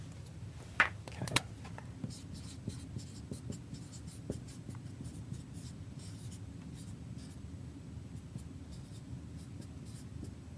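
Marker or chalk writing on a board during a programming lecture: a couple of sharp strokes early on, then light, scattered scratching that stays faint and close under a quiet room hum.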